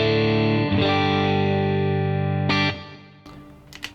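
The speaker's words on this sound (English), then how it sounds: "So my guitar with it switched out sounds like this." Electric guitar with an Allen Gear Lydian boost pedal switched off: sustained strummed chords ring loudly, re-struck about twice, then cut off with brief muted scratches at the end.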